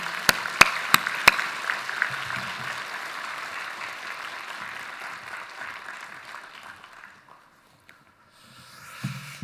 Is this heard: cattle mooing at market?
no